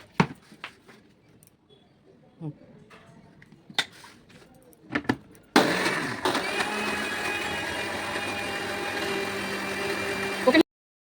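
A kitchen mixer grinder whirring steadily as it grinds lentils (dal), starting abruptly after scattered light clicks and knocks and running loudly for about five seconds before cutting off.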